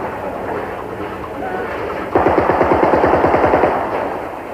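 Rapid automatic gunfire bursts out in a fast, steady rattle during Russian VDV airborne training, preceded by a rushing outdoor background and a voice speaking over it.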